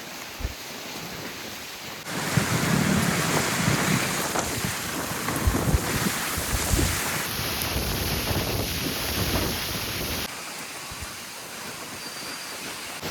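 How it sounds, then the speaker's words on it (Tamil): Strong wind roars and buffets the microphone in heavy, sustained gusts, with light rain in a village. "மழை லைட்டாக தான் இருக்குது, காற்று அவ்வளோ காற்று வீசுது."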